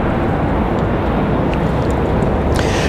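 A Republic Airways Embraer E175 regional jet arriving at Raleigh-Durham airport from LaGuardia gives off a steady, loud broadband roar that holds at one level throughout.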